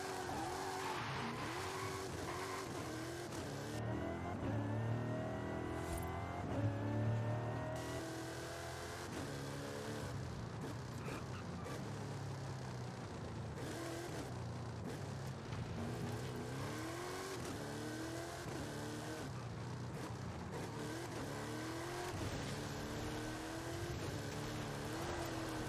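Race car engine in a video game on a tarmac track, revving hard with rising and falling gear-change sweeps, tire squeal and skidding, loud and continuous for the whole stretch.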